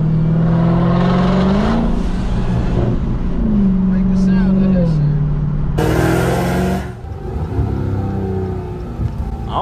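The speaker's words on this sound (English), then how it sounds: "the supercharger sounds so much different from a regular supercharger" A Dodge Demon with a ported supercharger accelerates through the gears, its loud engine climbing in pitch, dropping at each shift and climbing again, with a whining edge. People talk over it inside the car.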